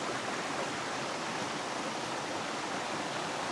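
A river rushes steadily near Mae Yen Waterfall in Pai, a continuous broadband wash of flowing water that is close and even throughout, with no voices.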